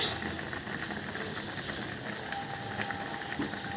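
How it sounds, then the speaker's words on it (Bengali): Shukto, a Bengali mixed-vegetable curry, simmers in a pan over a gas flame, giving a soft, steady bubbling and crackling texture that stays quiet and even throughout, with no voices. "এভাবে ফুটে উঠলে গ্যাসের ফ্লেম"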